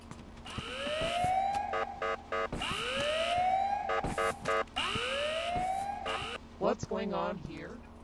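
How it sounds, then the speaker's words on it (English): An alarm siren in the Ice Scream 6 video game repeatedly sweeps upward in loud rising wails, several cycles in a row with short gaps, followed by brief game sounds. "Sound the alarm!"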